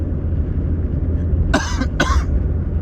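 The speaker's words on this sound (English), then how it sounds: "I have a cough, don't worry about it." A person coughs twice in quick succession, two sharp, fairly loud bursts close to the microphone over a low steady hum in a quiet room.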